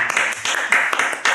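A brief round of clapping from an audience at a youth talk event in Hulu Sungai Selatan Regency comes in a few quick, close bursts.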